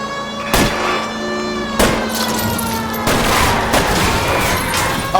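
Gunfire in the video game L.A. Noire, several loud sharp shots spaced about a second apart over a running car engine drone during a vehicle chase.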